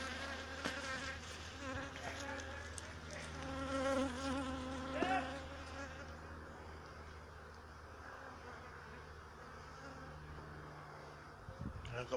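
Honey bees buzz steadily around a row of hives in a busy apiary, a faint, airy drone heard at a distance, with brief louder passes near the start. Outdoor background noise runs underneath.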